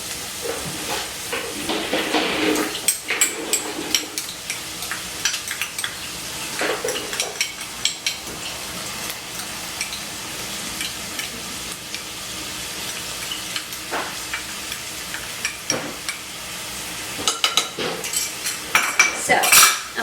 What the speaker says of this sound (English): I'm going to go ahead and mix this here together a little bit before I put my potatoes in